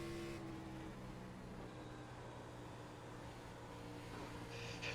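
Xfinity race car engine in the iRacing sim at Chicagoland, a faint, steady droning hum with a low tonal buzz that holds evenly throughout, distant and without talk.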